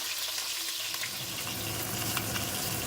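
Fish head and tail pieces frying in hot oil in a pan, a steady dense sizzle with crackling spits and faint stirring scrapes, close and continuous without any talk.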